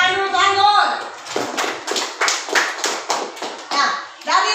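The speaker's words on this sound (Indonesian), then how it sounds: "tepuk tangan dulu, tangan" Children in a classroom clap their hands in a quick patterned rhythm of sharp claps after a teacher's spoken prompt, with young voices mixed in.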